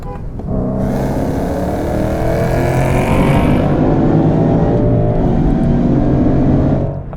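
A 2011 Ford Mustang GT rumbles as it pulls up beside a 2014 Mustang GT, the V8 engine note swelling in and holding steady, loud and close, before fading slightly at the end.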